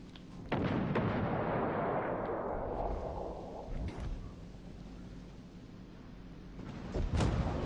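Heavy naval gunfire from a battleship in the World of Warships video game, a loud booming blast followed by a long rumbling roll that slowly fades, with another sharp report near the end.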